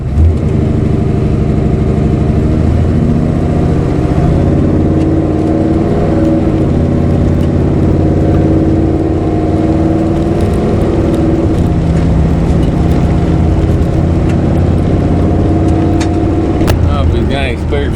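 A 1970 Impala project car with a 406 small-block Chevy engine rumbles loud and close on a test drive, a deep continuous engine drone with shifting revs throughout, while people talk over it.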